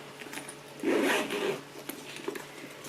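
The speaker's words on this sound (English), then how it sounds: "So we've got a zip pocket here" Zip on an inner pocket of a Chanel handbag pulled open in one quick, close rasping stroke lasting under a second, followed by faint rustling of the bag.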